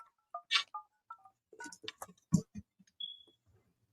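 Phone keypad DTMF tones entering a contact number on an automated voicemail line: a quick series of short dual-tone beeps, close and clear, with no talking.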